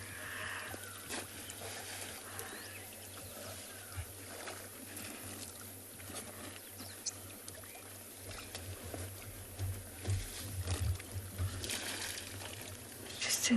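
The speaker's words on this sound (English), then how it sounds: "We can actually just enjoy the scenery and the sounds of the water." Soft water sloshing and splashing outdoors at a safari waterhole at sunrise, low and steady with occasional louder splashes, surrounded by quiet ambient background.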